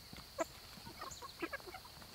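Big meat chickens cluck softly and sporadically nearby, giving short scattered calls and low murmurs in a quiet chicken area.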